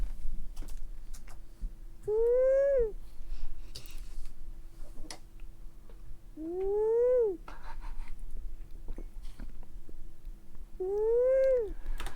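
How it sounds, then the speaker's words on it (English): A cat snoring up close, giving three drawn-out, whistling tonal snores at steady intervals of about four seconds over a low background hum. "It is indeed a cat snoring."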